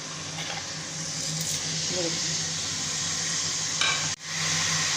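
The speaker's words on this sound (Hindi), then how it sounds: "ज़ीरा, काली मिर्च, कड़ी पत्ता और लौंग, छोटी इलायची और सूखी मेथी। ये हम घी में डालेंगे।" Cumin, black pepper, curry leaves, cloves, green cardamom and dried fenugreek sizzle steadily in hot ghee, a continuous close frying hiss with a brief clatter near the end.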